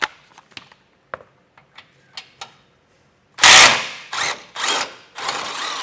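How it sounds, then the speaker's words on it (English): A ratchet fitted with a 21mm socket works a bolt loose on a 2024 Ram 1500, first in a few sparse, light clicks, then in several loud, close bursts of rapid ratcheting. "there's 2 bolts, this one here, and pull out with a 21mm socket"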